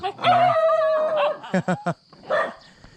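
A dog at a village house in a rural Thai hill settlement barks several times nearby, with a drawn-out whine first and then sharp yaps, loud and close.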